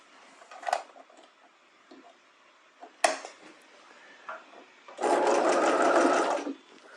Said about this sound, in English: now I'm going to sew this bias strip onto the seam allowance at 1/4 inch.